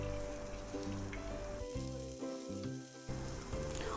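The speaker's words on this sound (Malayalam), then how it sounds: "ഇനി നന്നായി അതൊന്ന് വഴറ്റി കൊടുക്കാം." Chopped onion and green chillies sautéing in a pan for a Kerala-style crab roast, giving a steady close sizzle with light stirring scrapes and a brief dip in the middle, no talking.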